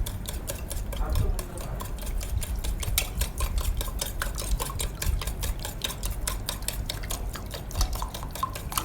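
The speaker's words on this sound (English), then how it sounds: "It's important to stir it thoroughly to know when the solution has been saturated" Salt being stirred into water to make a saturated solution, a steady run of quick scraping, clinking strokes against the container, close and fairly even throughout.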